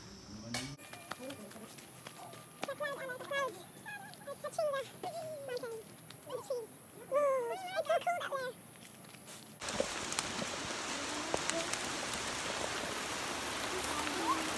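Outdoor rain on a ridge-view hike: rain hisses steadily under people talking in the first half, then a loud, dense wash of rainfall takes over for the last few seconds.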